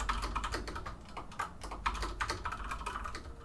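Steady, close typing on a new mechanical keyboard with Cherry MX Red switches, a quick irregular patter of soft keystrokes with no voices.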